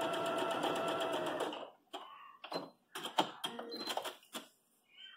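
A sewing machine stitches fabric strings for an X-string quilt block, first in a fast continuous whirring run, then in short stop-start bursts and clicks as the fabric is handled, close and clear with no talking.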